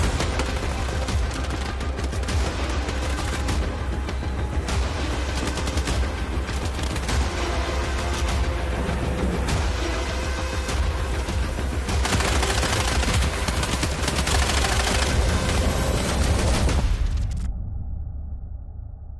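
Video game trailer gunfire, dense rapid automatic bursts and booms layered over a loud continuous soundtrack, carrying on without pause before cutting off abruptly near the end.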